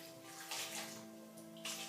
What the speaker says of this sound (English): So this is some water to make it runny.